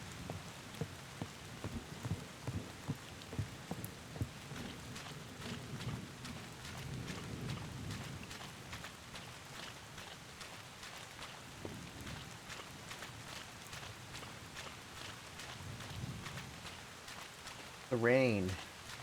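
Soft rain patters steadily in the video game Bottle: Pilgrim Redux, with low thunder rumbling now and then. Everything stays faint and distant while a person talks over it.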